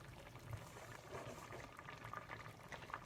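Zucchini and eggs simmer in a covered pot, a soft, continuous bubbling and gentle popping, close but quiet, with no talk.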